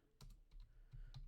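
Quick keystrokes on a computer keyboard, a short burst of soft, close clicks in a quiet room, typed while saving a file.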